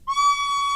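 A recorder plays one steady, clear note with a bright stack of overtones, starting abruptly and sustained evenly close to the microphone.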